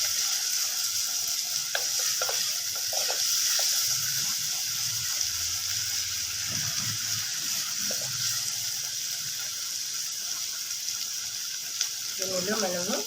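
Onions frying in hot oil in a home kitchen, a continuous hissing sizzle with occasional soft stirring bumps, and a brief splash of running water near the end.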